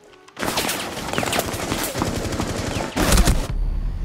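Gunfire in a Rainbow Six Siege team deathmatch on the Chalet map, loud rapid automatic bursts starting abruptly after a moment of quiet, with a heavier burst near the end before dropping back.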